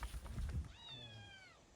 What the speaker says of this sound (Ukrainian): Коти мяукають.